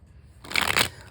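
Tarot cards are shuffled close by in one short, crisp riffling burst that follows a moment of near silence, with no talking.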